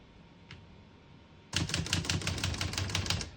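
A 1976 Olivetti 32 portable typewriter is typed on, giving a quick, regular run of crisp key strikes close by. The strikes begin after a quiet moment with one faint tap.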